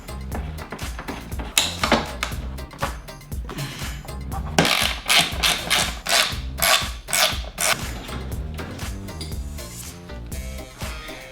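Screws go into carbon fiber parts during a Ducati Monster 1100 rebuild. Irregular metallic clicks, taps and scraping handling noises come in bursts up close, with no talking.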